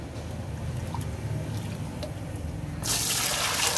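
Municipal tap water pours steadily into a container for making phenyl at home, with a flat rushing flow that grows louder and brighter toward the end.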